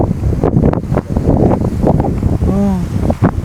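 Strong wind gusts buffet the microphone at a hillside farm, a loud continuous rumbling roar with surging bursts, while a person speaks briefly over it.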